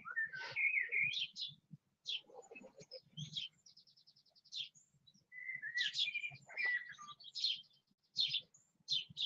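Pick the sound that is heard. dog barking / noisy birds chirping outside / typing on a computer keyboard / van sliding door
noisy birds chirping outside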